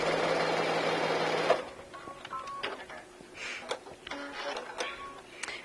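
A sewing machine running a quick back stitch, a steady loud mechanical whir for about a second and a half, then quieter clicks, taps and fabric handling sounds close by.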